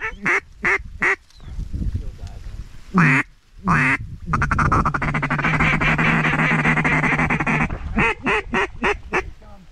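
Hen ducks quack loudly and repeatedly in short bursts over a flooded cornfield, with a long stretch of continuous clamor in the middle; voices can be heard mixed in.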